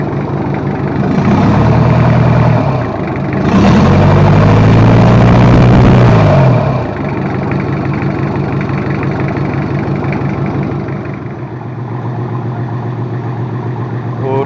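A freshly assembled Toyota 2L diesel engine runs in a steady, loud, close idle clatter, rising briefly in revs twice before settling back, with voices talking over it.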